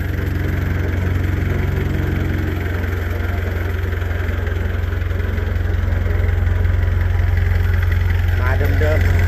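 A Komatsu SD10 wheel loader with an old genuine Japanese Isuzu diesel engine idles with a steady, continuous low rumble and vibration throughout, close and constant, while people talk nearby.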